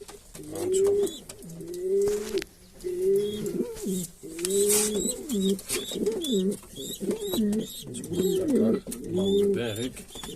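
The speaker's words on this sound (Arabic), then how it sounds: "هادو باش كيخرجوا لنا الحمام د السما الاخوان" Pigeons coo repeatedly and close by in a loft, their low rolling calls coming in steady overlapping bursts with faint chirps above.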